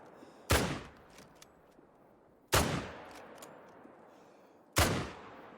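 Three loud rifle shots ring out in a whitetail deer hunting video game at Layton Lakes, spaced about two seconds apart, each a sharp crack followed by a long rolling echo through open terrain.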